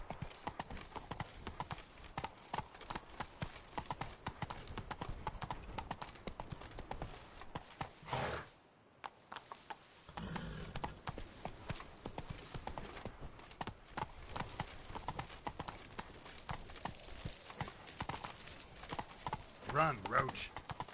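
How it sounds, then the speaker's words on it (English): A horse gallops in The Witcher 3 video game, its hooves pounding in a steady, continuous rhythm amid in-game sounds. The hoofbeats drop out briefly near the middle, then resume. "Run, Roach"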